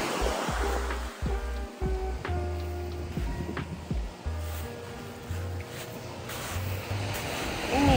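Ocean waves wash and surge at a Bangkok resort trip's seaside in Thailand, a continuous rolling roar with wind buffeting the microphone and occasional low thumps, and no one speaking.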